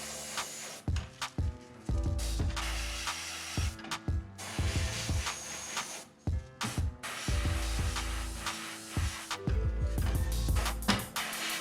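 An airbrush sprays paint onto a micro crawfish fishing bait in short hissing bursts, each separated by brief silences, close and fairly quiet, with small pops between sprays.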